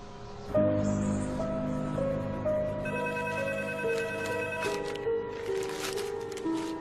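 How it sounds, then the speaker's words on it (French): An indoor telephone rings with a repeating melodic electronic tone that carries on steadily for several seconds, with faint rustling in the background. "téléphone, c'est ta banque."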